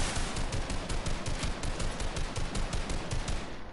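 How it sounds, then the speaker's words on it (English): Video game gunfire: a fast, rattling stream of automatic shots blending into a thick wash of noise, sustained and evenly loud without pause. "I will shoot."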